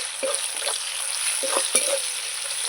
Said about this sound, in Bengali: এবার ভালো করে পেঁয়াজটাকে একটু ভাজবো